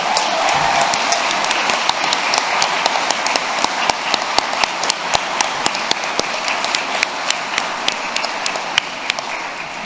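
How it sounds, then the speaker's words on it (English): An audience applauds university students at the Swansea University Dylan Thomas Prize event; a dense wash of clapping with some sharp, prominent claps standing out, loud and sustained throughout. "Can we give them all a big round of applause?"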